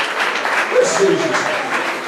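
Church congregation applauding, a continuous wash of clapping from many hands with voices mingled in, steady and fairly loud for a couple of seconds.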